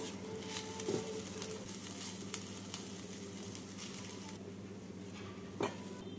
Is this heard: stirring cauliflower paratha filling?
yes